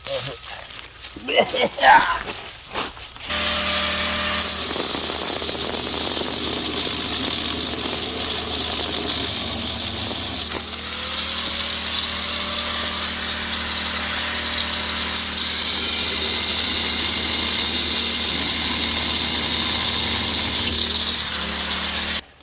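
A portable generator running outdoors beside cars being stripped for parts. After a few seconds of handling noise and a brief voice, it settles into a loud, steady, close engine drone that holds without break.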